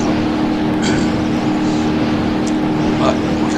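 Steady, loud engine drone of a car at about 273 miles per hour in the BeamNG video game, a constant high-speed roar with no pauses.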